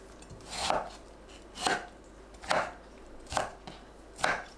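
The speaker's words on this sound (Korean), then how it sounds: "토마토는 양끝을 자르고 큼직하게 썰어줍니다." A knife chops through tomato on a cutting board, five evenly spaced thuds with a soft squelch, close and alone.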